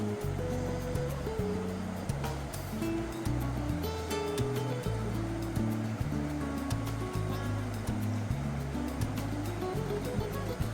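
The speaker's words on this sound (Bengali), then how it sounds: "মুখটা ভালো করে ধুয়ে নিই" Water splashes steadily as a face is washed with water at a sink during a morning routine, a continuous rushing wash under background music.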